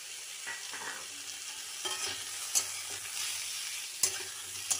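Mixed vegetables frying in a pan, a soft steady sizzle broken by sharp clinks and scrapes of a stirring spoon, with no voices.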